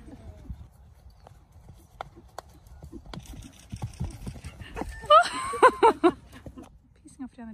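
A well-trained horse's hooves clip-clopping, with scattered hoof knocks growing busier and louder, and a sharp whinny-like burst midway; a person speaks briefly.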